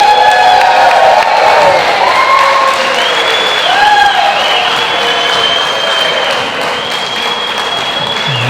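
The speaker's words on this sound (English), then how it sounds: "Big round of applause." Wedding guests applaud and cheer loudly after the best man's toast at a wedding reception, a dense, steady wash of clapping with whoops and shouts rising over it throughout.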